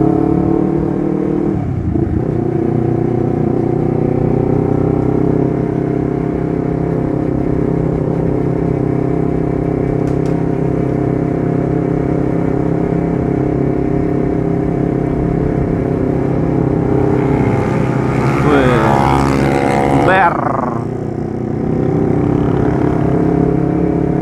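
A Honda CBR250RR motorcycle fitted with an R9 GP series exhaust runs close and loud with a steady droning engine note, rising in a brief rev near the end, no talk.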